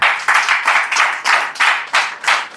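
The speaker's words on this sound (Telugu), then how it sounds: "గట్టి కొట్టు, చప్పట్లు కొట్టు." A church congregation claps in a steady rhythm, about two bursts per second, loud, close and full of many hands together, with no voices over it.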